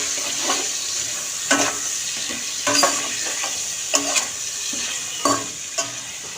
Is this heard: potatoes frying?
yes